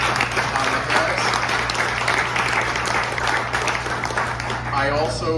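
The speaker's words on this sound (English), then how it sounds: "Please give a round of applause for Vice President Kamala Harris" Applause from guests at a New Delhi restaurant's 33rd anniversary event welcoming Vice President Kamala Harris, steady moderate clapping over a constant low hum, with voices mixed in near the end.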